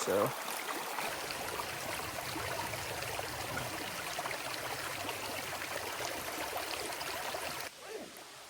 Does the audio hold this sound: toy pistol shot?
no